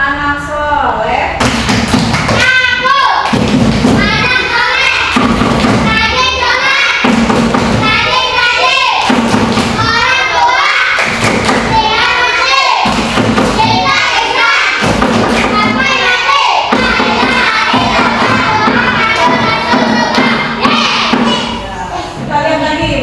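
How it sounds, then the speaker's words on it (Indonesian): A class of children performs the 'tepuk anak soleh' clapping chant in a classroom, with steady rhythmic rounds of clapping and thumping under young chanting voices, loud and close throughout. "Tepuk anak soleh."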